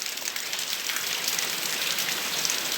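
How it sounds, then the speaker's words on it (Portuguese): Heavy rain pours down in Maceió, a dense, steady hiss of water striking surfaces with no pauses and no voices, close and continuous throughout. "Quantidade de água que cai de uma vez só."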